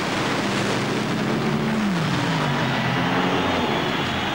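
At an NHRA drag race in Houston in 1993, the Blower Drive Service Dodge Daytona funny car roars down the strip in a loud, sustained engine blast whose pitch shifts as it passes, heard at some distance.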